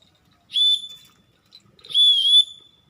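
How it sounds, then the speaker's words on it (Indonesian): Two sharp, high whistle blasts call Javan mynas at a conservation site, the first short and the second longer and slightly wavering, clear and close against near silence. "tanda peluit untuk mengumpulkan jalak"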